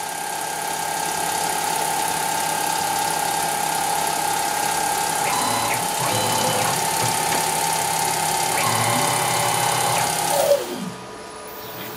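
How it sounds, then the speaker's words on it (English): A Mach3-controlled CNC machine running steadily while machining, a constant motor whine and hum with faint shifts as the axes move left and right, close and continuous until it winds down near the end. "So when machine is machining, it moves a lot left and right."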